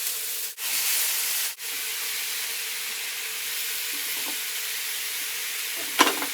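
Halved tomatoes sizzle face down in a hot pan, a steady hissing fry with a couple of brief breaks early on and a small clatter near the end.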